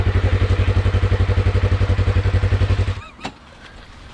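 Polaris RZR off-road vehicle engine cranking and sputtering, a loud steady rhythmic chugging for about three seconds that abruptly cuts out, followed by faint clanks.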